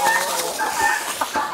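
Hens in a backyard flock cluck and give short squawks close by, several overlapping calls in quick succession.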